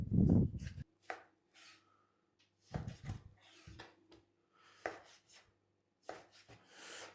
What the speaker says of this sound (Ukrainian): Нарізаємо його спочатку на ось такі шматочки.